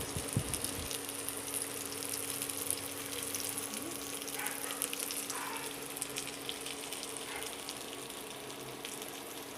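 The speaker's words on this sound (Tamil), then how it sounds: "இன்னும் கொஞ்சம் டீப்பாக ஃப்ரை ஆகட்டும்." Kerala-style fish wrapped in banana leaf fries in a pan, giving a steady, dense sizzle that stays loud and close throughout, with a few brief crackles and no voices.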